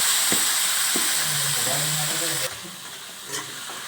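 Marinated meat hitting hot oil with browned onions, a loud, bright continuous sizzle and hiss with a couple of clanks as it is stirred, then settling to a steadier frying hiss.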